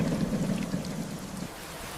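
Steady rain falls in a dense, even wash with a deep low rumble beneath, continuous and moderately loud, easing slightly toward the end.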